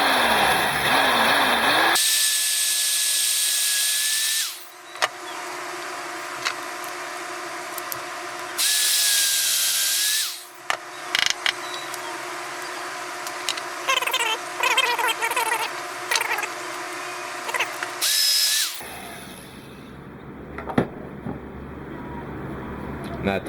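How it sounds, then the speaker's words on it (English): A power drill whirs in several bursts of a few seconds each, fairly close, separated by quieter stretches with small clicks and handling noises. "So next up is drilling this up."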